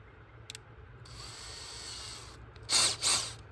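A power drill whirs in a steady run for about a second, then two short, louder revving bursts follow, with faint clicks before them; the drill is being tried for starting a 10,000-watt generator.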